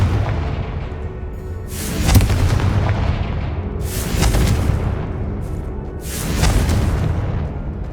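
A Confringo fire spell is cast repeatedly in Hogwarts Legacy, producing three booming, fiery blasts spaced about two seconds apart, each with a crackling tail, over a low ambient rumble.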